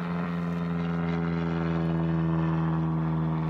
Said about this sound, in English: Here goes a little Cessna.